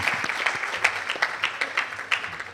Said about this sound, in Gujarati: તાળીઓના ગડગડાટથી આપણે તેઓનું સ્વાગત કરીએ